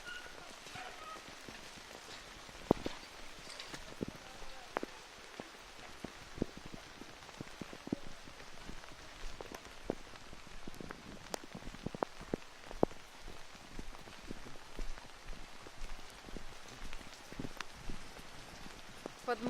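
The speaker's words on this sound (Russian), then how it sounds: "Вот вся вода у людей течет во дворы" Steady rain patters with dense, crackling drops after a heavy downpour in a residential street, where water runs off into house yards; the hiss stays even and moderately quiet throughout.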